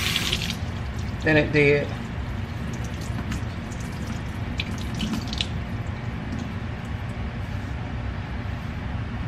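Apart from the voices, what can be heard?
water rinsing conditioner out of hair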